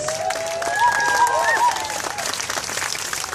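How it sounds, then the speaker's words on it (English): An outdoor crowd at Yonge-Dundas Square in Toronto applauds veterans during an Aboriginal history event. The clapping is mixed with whistles and cheers and is overlaid with voices, and it fades slightly toward the end. "So how about a round of applause for all of our veterans?"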